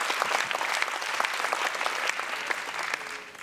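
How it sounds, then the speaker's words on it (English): An audience at a Bank Rakyat forum on a whole-of-nation approach to the SDGs applauds the Parliament with dense, steady clapping from a sizeable crowd. It holds at an even level throughout, with no voices. "Maybe one more applause for the Parliament."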